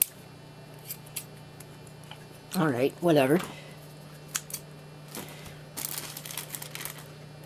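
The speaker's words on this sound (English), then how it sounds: "I shouldn't need a pair of scissors to do this" Scissors snip through the packaging of a Northern Micro Spirit NAS in short crisp cuts, with rustling plastic and a few clicks, and a voice speaks briefly between cuts.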